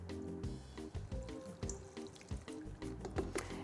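Water pouring into a stand mixer bowl over flour and salt for Turkish simit dough, a steady close trickle with small splashes and drips, no talking.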